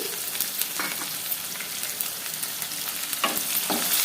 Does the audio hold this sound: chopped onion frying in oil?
yes